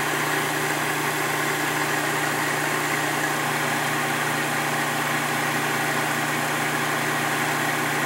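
A graphene-powered RotaFlux generator spinning at 1770 RPM, a loud steady mechanical hum with a constant low drone and broad whirring, unchanging throughout with no talk.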